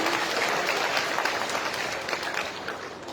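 Crowd clapping at a chief minister's by-election rally on a tehsil ground in Damoh, a dense, steady round of applause from many people that gradually softens toward the end.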